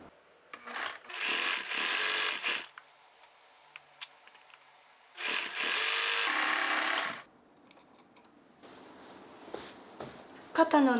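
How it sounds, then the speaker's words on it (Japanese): An overlock serger finishes the shoulder seam of a blouse sewn from Liberty fabric, whirring in two long steady bursts separated by quiet pauses and small clicks of handling. "肩線にロックミシンをかけます。"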